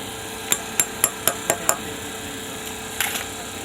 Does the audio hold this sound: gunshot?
no